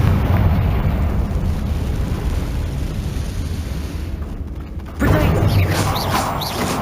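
In Hogwarts Legacy, the Confringo spell sets off a fiery explosion: a dense, sustained roar swells into a sudden louder burst near the end, and the rumbling continues afterward.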